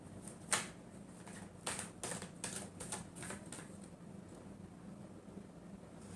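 Tarot cards are shuffled by hand, a quiet run of soft, quick riffling clicks in short bursts over faint background hiss.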